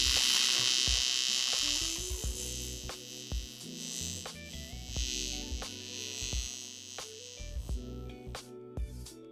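TIG welder arc on a VW Passat repair in a garage shop, a steady bright buzzing hiss with irregular pulsing clicks and stuttering changes as filler is added, close and alone without talk.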